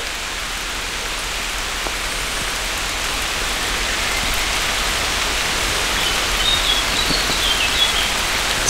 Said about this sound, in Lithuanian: Nu, štai ir lietus.